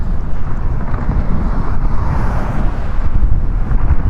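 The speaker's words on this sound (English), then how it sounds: "I hope the wind noise is being looked after, because it's very, very windy up here today" Strong wind on an exposed hilltop buffets the microphone with a loud, continuous low rumble and gusty roar, no voices, just steady blustery noise throughout.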